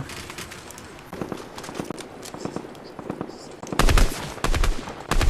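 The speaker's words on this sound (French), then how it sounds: "Bah alors on tire sur les gens?" Gunfire in Fortnite, rapid bursts of automatic shots and single cracks, some distant and some loud and close near the end, with game sounds around them.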